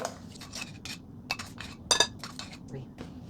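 Flour, baking powder and milk are mixed in a bowl, with a series of utensil taps and scrapes against the bowl, one brighter clink midway, and faint voice traces.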